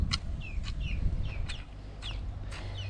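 Several chicks and chickens on a farm cluck and peep in short repeated calls over a low, busy background, close by and steady.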